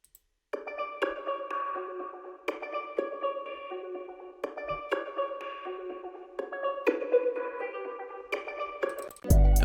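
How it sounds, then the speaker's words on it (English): Textured guitar layer on a dark trap melody, plucked chord notes ringing out in a repeating pattern, clear and fairly close, playing alone before a sudden loud burst at the very end. "And after that we are layering like a textured guitar."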